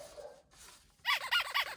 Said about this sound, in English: That's my dog going nuts because it's her dinner time.